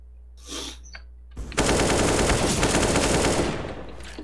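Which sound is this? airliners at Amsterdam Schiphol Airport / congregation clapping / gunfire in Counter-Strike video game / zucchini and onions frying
gunfire in Counter-Strike video game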